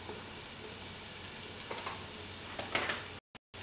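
Okra (bhindi) sautéing in a pan gives a steady, close sizzle with a few soft stirring scrapes, running continuously before cutting off abruptly near the end.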